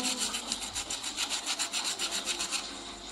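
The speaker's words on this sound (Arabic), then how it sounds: "اسمعوا كده صوت القرمشة" Kentucky-style fried chicken being broken or bitten, giving a rapid, rhythmic crunching of about a dozen bursts, close and fairly faint, with no voices.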